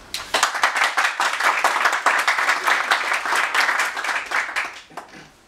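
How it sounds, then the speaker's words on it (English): An audience at a Barcelona free software talk on Tor breaks into loud, sustained applause, dense clapping that holds steady for several seconds and then tapers off near the end. "Big applause."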